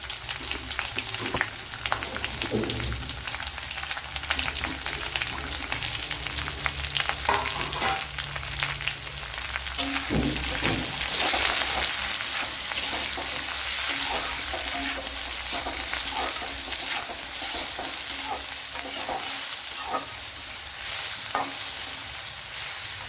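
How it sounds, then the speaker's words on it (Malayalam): Sliced onion sizzling in a pan with cooked cauliflower, a steady close frying hiss broken by repeated scraping strokes of a spoon stirring, with no talking. "ഇതിലേക്ക് ഒരു സവാള കട്ട് ചെയ്ത് ചേർത്ത് കൊടുക്കാം."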